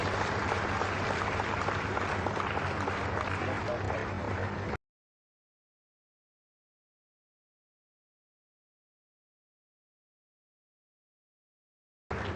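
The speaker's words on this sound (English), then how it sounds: "A round of applause." Audience applause at the Ghana Tree Crops investment summit and exhibition, a dense burst of clapping for several seconds, then an abrupt cut to silence and a brief return at the very end.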